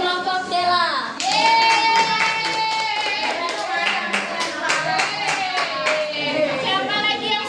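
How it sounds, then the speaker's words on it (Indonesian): Children in a sixth-grade classroom applaud a student group, a dense, steady patter of many small hands clapping that swells suddenly and continues loudly for several seconds, with a few young voices mixed in. "beri tepuk tangan untuk kelompok Dela."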